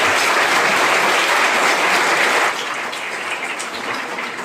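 Audience applause at a college law seminar on human rights in Kanpur, a dense steady wash of many hands clapping that thins and softens slightly halfway through, with no voices.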